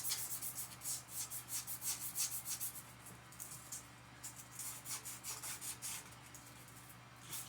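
Aluminum being polished off the steel crankshaft of a 10 hp Briggs & Stratton generator engine: steady rhythmic back-and-forth rubbing strokes, close and fairly soft, with brief pauses between bursts.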